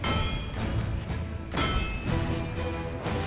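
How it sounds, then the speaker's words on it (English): Metal hammering from the Iron Man cave forging scene, as Tony Stark beats out his suit: heavy repeated impacts over a dense, noisy mix, with loud strikes near 0.6 and 1.5 seconds. "the famous scene from Iron Man Part 1 where he's forging his suit, banging it in the cave"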